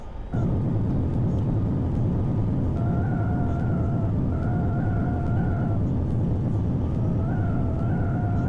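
A stock Boeing 747-400 in X-Plane 11 rolls out on the runway with thrust reversers deployed, a loud steady low roar and rumble holding from start to finish with faint whining tones riding on top.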